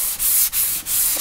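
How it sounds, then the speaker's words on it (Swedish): A sanding block with 180-grit sandpaper rubs along the grain of wood in about four steady back-and-forth strokes, each a close, loud, raspy scrape with brief pauses between. "Jag har en slipkloss och slippapper som jag har här, det är 180 papper."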